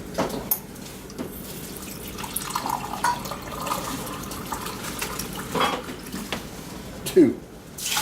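Water pours into an Instant Pot holding jasmine rice, a steady soft running splash close by with a few clinks near the end, while a voice talks over it.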